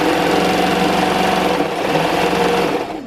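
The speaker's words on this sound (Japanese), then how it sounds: "今度はこの今縫ったところをロックミシンかけますね" An overlock serger sews along a freshly stitched seam of dress fabric, a loud, fast, steady mechanical whir that slows and stops near the end, with no talking.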